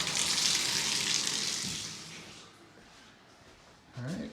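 Strong tap water gushing in a renovated 150-year-old farmhouse bathroom, a loud hissing rush that fades after a couple of seconds, leaving a quiet room before a brief sound at the end.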